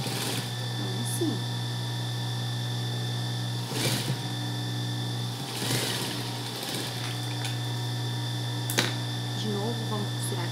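A sewing machine runs continuously up close while stitching fabric for a small ruffled shorts-and-blouse set, giving a steady high mechanical whir with a few brief knocks and rustles over it, and someone speaks briefly now and then.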